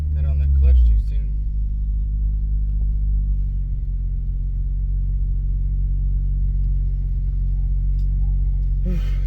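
A car engine drones while driving with the clutch engaged too soon. A steady, heavy low rumble fills the cabin, with a brief louder surge near the start.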